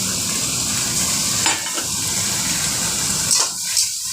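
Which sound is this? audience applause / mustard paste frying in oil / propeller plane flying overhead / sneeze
mustard paste frying in oil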